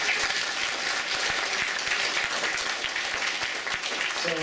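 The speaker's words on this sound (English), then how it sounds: "Round of applause." Audience round of applause at a 2012 City of Heroes player summit panel, brisk continuous clapping from a room of attendees, even and fairly loud, with a voice starting at the very end.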